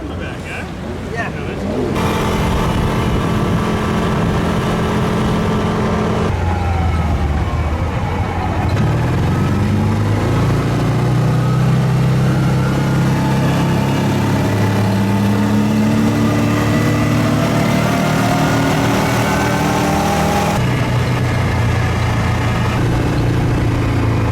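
A loud, steady racing jet ski engine drones throughout with shifting pitch as it revs and settles, while people talk over it, at a jet ski race at Lake Havasu.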